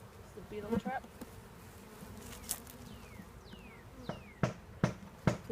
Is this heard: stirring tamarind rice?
no